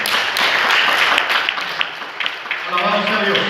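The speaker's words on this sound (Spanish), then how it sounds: "Dale un fuerte aplauso al Señor." A church congregation claps and applauds, a dense, steady spatter of hands that fades in its final second as a voice starts speaking over it.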